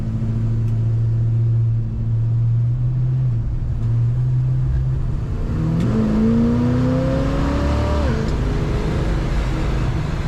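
A 1967 Chevrolet C10 regular cab short box pickup with a column-shifted automatic drives on the road, its engine rumbling low and steady, then revving up through a rising whine with a shift, under continuous road and wind noise.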